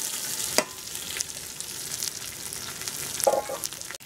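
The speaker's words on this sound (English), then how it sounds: "So we just get a nice, generous amount of olive oil in there. Okay, so from earlier, our onions and our garlic can go in" Onions and garlic sizzle in olive oil in a cast-iron potjie pot, a soft continuous hiss with a few sharp clicks and crackles scattered through it.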